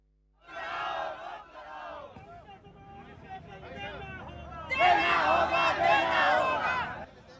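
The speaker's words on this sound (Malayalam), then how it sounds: "മുദ്രാവാക്യത്തിന്റെ ആരവങ്ങളാൽ പ്രതിഷേധ കടൽ തീർത്ത്" A large protest crowd in Delhi chants slogans in loud, rhythmic bursts during a nationwide strike, with a quieter mid-section before the chanting swells again.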